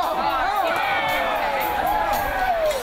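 A crowd below a high rope swing at Carrigan Farms lets out sustained oohs and aahs, a loud continuous murmur of voices rising and falling as jumpers swing and flip.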